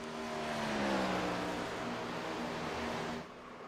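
A Gen 4 race car in a racing video game laps Dover Speedway, its engine droning steadily with shifting pitch before the sound drops off near the end.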